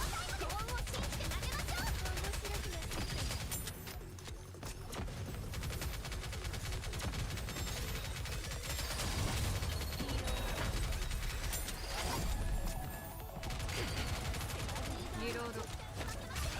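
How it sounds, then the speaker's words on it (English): Continuous automatic gunfire from a video game battle, dense and sustained for the whole stretch, with bursts and crashes layered over a busy mix and voices talking now and then. "Those machine guns are really obnoxious though."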